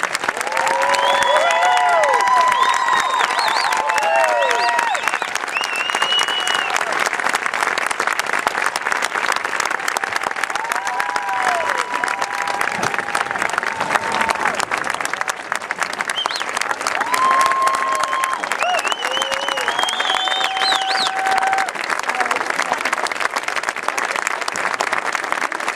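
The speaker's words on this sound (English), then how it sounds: "Give them a round of applause in recognition of their achievements." Sustained loud audience applause fills a graduation ceremony hall, steady clapping from a large crowd throughout with no speech over it.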